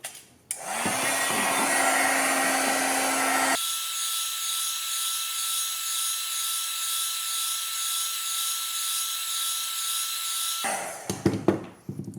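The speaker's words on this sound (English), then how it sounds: "be sure to apply the heat gun only to the plastic surrounding the LCD, not to the LCD itself" A heat gun warms the plastic bezel around the LCD of a Blackmagic Pocket Cinema Camera 4K during disassembly. It makes a steady, close blowing roar that starts after a second, shifts to a lower, smoother tone partway through, and cuts off near the end.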